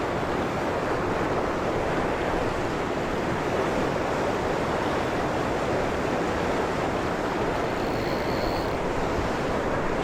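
Rushing water at a barramundi fishing spot, a loud steady roar of flowing water with wind-like hiss that continues unbroken throughout, with no voices.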